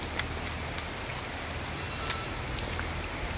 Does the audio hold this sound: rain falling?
yes